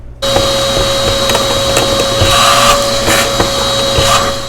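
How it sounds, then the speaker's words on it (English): A vacuum cleaner runs loud and steady while cleaning the built-in grinder of a Breville Barista Express BES870 espresso machine, with a constant whine and occasional knocks as the nozzle bumps the grinder. "Now we are going to vacuum it one more time."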